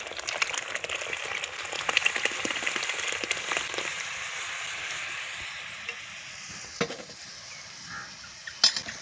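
Cooked moong and toor dal go into a simmering murrel fish curry pot, giving a soft, steady bubbling sizzle with faint stirring and a few light clinks.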